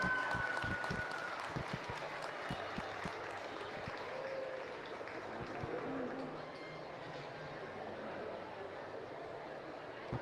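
A crowd at the Monroe County Fair livestock arena applauds for the champion cattle, the clapping loose and moderate at first, then thinning under lingering background noise.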